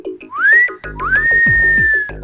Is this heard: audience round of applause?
no